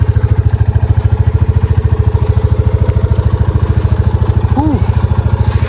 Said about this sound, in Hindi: This is the exhaust note and this is the engine sound.